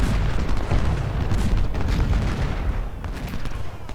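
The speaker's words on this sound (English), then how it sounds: "Our men are opening up. And I want to see how these rifles perform." Union infantry rifles fire at the Battle of Chickamauga in Ultimate General: Civil War, a continuous crackling roll of musketry mixed with heavier booms. The volley keeps up steadily throughout, with no voices.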